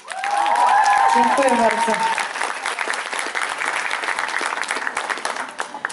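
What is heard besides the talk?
audience applause for a singer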